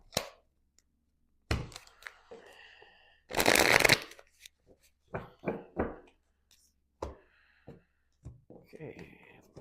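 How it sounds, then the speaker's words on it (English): Tarot cards shuffled and drawn during a reading, giving several sharp riffling bursts and soft card slaps between pauses, with one longer dense shuffle in the middle, close and fairly quiet, with brief voice sounds in between. "I'm going to just take out a few extra cards if needed"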